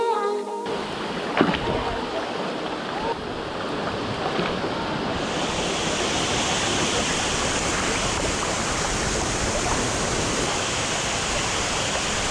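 Salto Curet waterfall on a river in Maricao, Puerto Rico, pours as a steady, dense rushing roar that fills the scene without a break after a brief quieter start.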